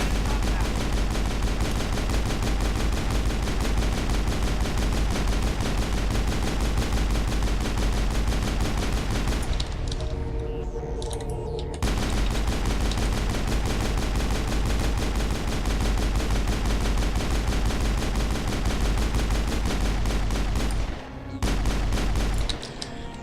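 Rapid sustained weapon fire in Mass Effect from a gun fitted with a rail extension, dense loud bursts of shots running nearly continuously with two brief pauses, no talking.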